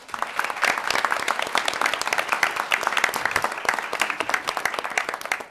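An audience at a Champions of Change AAPI challenge event bursts into sustained, crisp applause for an honored winner, many hands clapping densely and evenly at moderate loudness for several seconds.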